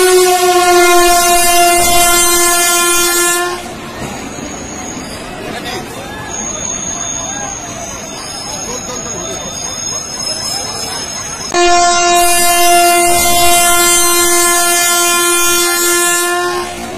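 The Hazrat ... Express train sounds a loud, sustained horn, then rumbles past with heavy clattering before the horn blasts again for several seconds.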